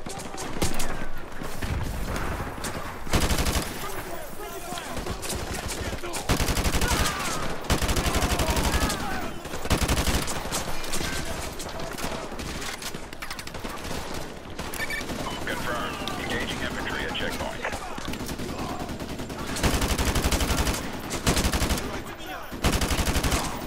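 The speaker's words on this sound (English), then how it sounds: "Why am I getting shot from now? Behind? How are they behind us?" Dense gunfire from the Modern Warfare 2 Remastered campaign rattles almost continuously, with automatic bursts and louder volleys close by, mixed with game sound and a voice talking over it.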